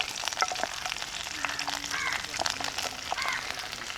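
Garlic sizzles in a very hot pan while being stirred, a close steady frying hiss with scraping and clinks, a voice talking faintly over it.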